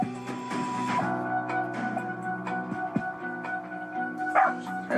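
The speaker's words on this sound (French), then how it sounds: "Les chiens arrivent." Dogs arriving outdoors bark and yip in short bursts, close by, with whimpering and faint background sounds between the barks.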